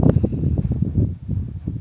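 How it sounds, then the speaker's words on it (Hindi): Strong wind blows across the open sand dunes of the Gobi Desert in Mongolia, a steady loud buffeting roar battering the microphone throughout, with low rumbling gusts and no clear speech. "एक्चुअली बहुत ज़्यादा तेज़ हवा चल रही है, बहुत तेज़, आंखों में, मुंह में, सब जगह धूल जा रही है।"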